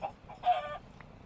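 A single short chicken cluck from a blocky survival video game, heard alone and fairly faint, lasting about half a second.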